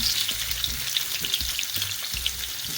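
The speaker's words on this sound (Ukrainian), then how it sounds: "Викладаємо картопельку та рум'янимо її." Young potatoes of mixed sizes brown in a hot pan, making a dense continuous sizzle with soft stirring scrapes and occasional low knocks, close and with no speech.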